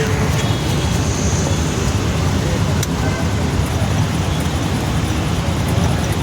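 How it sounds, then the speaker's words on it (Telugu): Dense, steady road traffic roar heard from inside a moving auto-rickshaw, a constant loud rumble of engines with faint horn-like tones, continuous throughout. "ట్రాఫిక్ చూడండి చాలా ఎక్కువ ఉంది"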